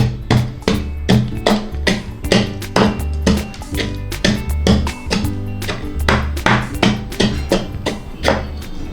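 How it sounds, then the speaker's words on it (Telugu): Oreo biscuits chopped into small pieces with a knife on a board, a steady run of sharp, close tapping knocks at a quick, slightly uneven rhythm, with no talking over them. "ఇలాగా చిన్న చిన్న ముక్కలు కట్ చేసుకుంటే చాలు"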